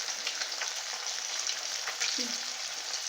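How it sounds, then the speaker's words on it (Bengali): Pieces of catla fish fry in hot oil in a pan, giving a steady, even sizzle and crackle that stays close and constant, with occasional faint pops and no talking. "মাছগুলো ততক্ষণ ভাজা হোক"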